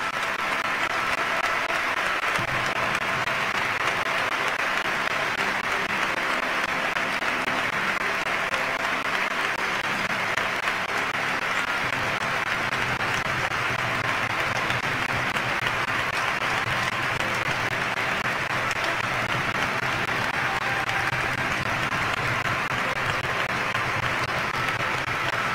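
A large crowd keeps applauding at the canonical coronation of María Santísima de las Penas in Barrio de la Viña, Cádiz, a long unbroken roar of clapping heard from some distance, steady and even throughout.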